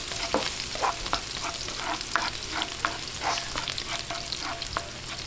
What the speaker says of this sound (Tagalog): Ngayon, umpisahan na po natin yung paggigisa.